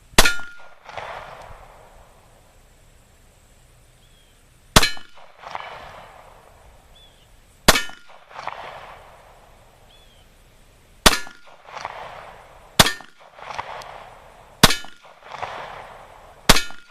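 A Glock 23 fires 40 S&W reloads with 165 grain plated bullets, seven loud sharp shots at uneven intervals, the last ones coming faster, each followed by a ringing echo.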